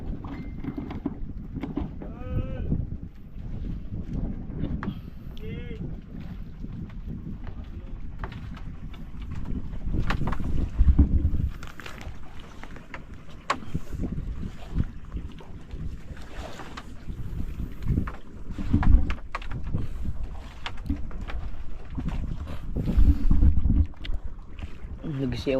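A small boat moves across open water in wind-buffeted, rumbling noise that swells and fades, with people talking intermittently close by.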